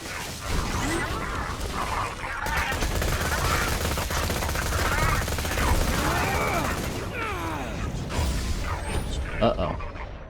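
Sentry turret gunfire in Borderlands 2 plays out as bursts of rapid mechanical shots and metallic clatter over a busy game soundscape, with a voice calling out briefly.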